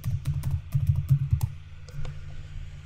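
Quick bursts of typing on a computer keyboard while entering a search, clustered rapid key clicks with short pauses, close and clear over a low steady hum.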